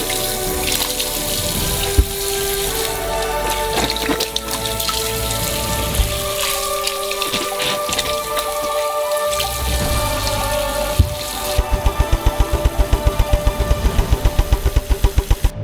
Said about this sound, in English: Fill it up with water. And each orange needs to be thoroughly washed.